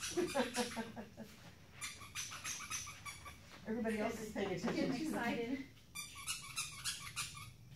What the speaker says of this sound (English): So I'm just going to stand back here and kind of walk around and nonchalantly squeak my octopus.